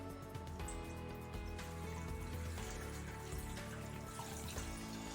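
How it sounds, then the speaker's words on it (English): Tap water runs steadily into an old pot being filled for rendering beeswax, a continuous close, low rushing stream with no talking. "And fill that with water."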